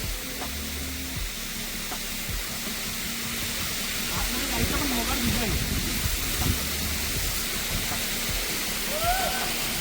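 Steady rushing of a hillside waterfall fills the background as people talk nearby on a trek, their voices rising over the constant hiss of falling water.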